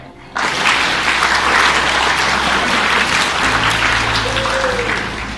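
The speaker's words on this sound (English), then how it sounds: "you give him a round of applause" A school audience of Grade 8 pupils applauds in a classroom setting, a dense, sustained burst of clapping that starts abruptly and holds steady for several seconds before easing slightly at the end.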